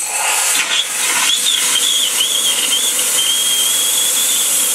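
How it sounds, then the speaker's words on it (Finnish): Superheated live steam vents from a steam trap straight into open air, a steady loud hiss with a wavering whistle-like tone running through it, continuous for the whole stretch with no voices. "jolloin höyry tulee tulistettuna ulos lauhteenpoistimesta"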